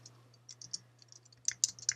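Typing on a computer keyboard while entering text in Microsoft Word: a quick run of light, close key clicks that grows louder and denser toward the end, with no speech.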